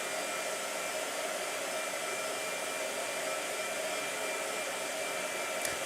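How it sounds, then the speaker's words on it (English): A blow dryer runs steadily and continuously on a painting in progress, a dense even whoosh held at close range with no talking. "All right, blow dryer."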